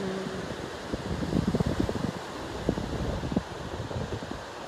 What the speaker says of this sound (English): With that southern wind.